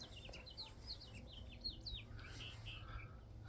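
Songbirds sing outdoors in a steady run of bright chirps and trilled whistles, fairly close, over a low constant background rumble with no talking.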